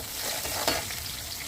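Onions fry and sizzle in a pan with a dense, close crackling hiss and a brief stirring scrape midway.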